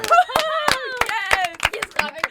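A single person on a comedy podcast claps for himself, sharp separate hand claps in an irregular rhythm heard under and between lively talking and laughter.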